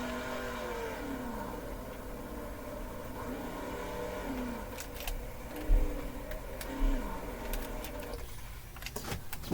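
A sprint car engine in the World of Outlaws '23 racing game screams through a fast practice lap, its pitch rising and falling in repeated sweeps as it revs through the corners, loud and continuous with no talk.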